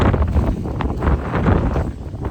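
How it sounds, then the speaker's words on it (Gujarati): Strong wind roars and buffets the microphone in a continuous loud, rough rush that swells and dips slightly throughout. "આજ તો પવન જોરદાર પવન છે જબરજસ્ત અવાજ આવતો હતા પવનનો"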